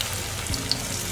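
Semolina pakoras fry in hot oil with a steady, close sizzle and a few small pops, a brief dense crackling hiss with no talking.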